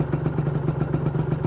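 A Yamaha NMAX scooter engine with an HID headlamp switched on throbs close by in a fast, even pulsing rhythm as it is revved, steady and moderately loud with no talking.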